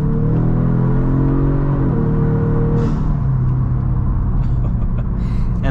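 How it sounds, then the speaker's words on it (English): Tuned 2023 Genesis G70 with about 500 torque, its engine droning loudly and steadily with a rising tone, then easing into a lighter whir with faint airy turbo-like hiss near the end; no talking. "it does have that turbo whooshing noise, and it does have the turbo flutter"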